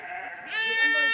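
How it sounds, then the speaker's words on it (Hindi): A lamb in a flock of sheep cries out for its mother with a single rising bleat that grows louder partway through, close by and with no one talking. "बच्चा बेचारा इस तरह चिल्ला रहा क्योंकि इसने अपनी मम्मी को देख लिया है चिल्लाते हुए।"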